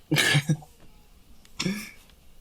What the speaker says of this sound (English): So my kids are coughing.